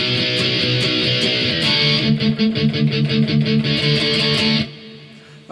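Electric guitar playing the chorus D section of a song, a steady strummed chord pattern with effects, loud and alone, rhythmic accents through the middle before stopping abruptly near the end.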